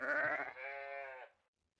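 A single sheep bleats at a sheep ranch in a medieval strategy video game, one clear, close bleat lasting just over a second, heard alone.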